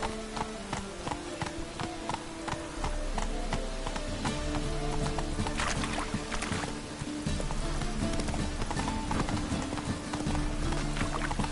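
Roach the horse gallops in The Witcher 3, a steady run of hoofbeats carrying through the whole stretch amid busy game ambience, with no talking over it.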